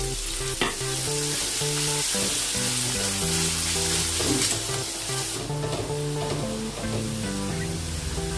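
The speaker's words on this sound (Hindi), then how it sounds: "प्याज को हम भून लेंगे" Large-sliced onions fry in oil for aloo pulao, a loud, dense, continuous sizzle under steady background music.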